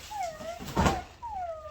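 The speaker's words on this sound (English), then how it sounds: "it's the dog." A dog whimpers in two drawn-out, falling whines, one early and one late, with a louder burst of noise between them during a Christmas present opening.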